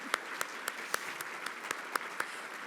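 Steady applause from a banquet audience at a university scholarship appreciation dinner, a dense wash of clapping with sharper individual claps popping out at a fairly regular pace, no voices over it.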